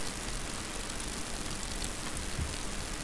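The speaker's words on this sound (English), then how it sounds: "It's raining so heavily." Heavy rain falls steadily in the video game Minecraft, a soft, even hiss of downpour with no talk over it.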